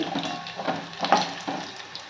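Crushed garlic frying in oil for a tempering, a soft close sizzle with light stirring and scraping bursts across two seconds, no voices.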